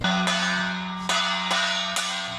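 A hand-struck gong at a primary school in Mailiao, used in place of the electric class bell during a power outage, rings four times at a steady pace, each loud metallic strike ringing on into the next.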